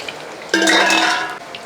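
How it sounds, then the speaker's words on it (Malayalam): Banana pieces for sharkara varatti frying in hot oil as they are stirred, a brief close burst of sizzling and scraping that rises sharply, holds for under a second and fades back into quiet. "ഒന്ന് ഇളക്കി കൊടുത്ത് അപ്പം നമ്മൾ ആദ്യമേ ഫ്രൈ ചെയ്തപോലെ തന്നെ രണ്ടാമത്തേം നമ്മൾ ആ ഫ്രൈ ചെയ്തെടുത്തിട്ടുണ്ട്"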